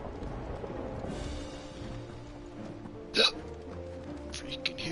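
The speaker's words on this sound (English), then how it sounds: "Freaking hiccups." A single sharp hiccup bursts out loud around the middle, standing out above a steady bed of game music and background sound.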